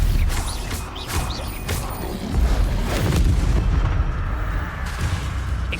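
Stupefy spell blasts from a Harry Potter video game (Troll slayer), heard as a run of loud booming impacts and crashing bursts with mechanical rumble underneath, fairly dense and close throughout.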